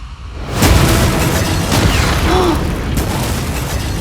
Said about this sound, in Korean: 상자들이 일제히 폭발해.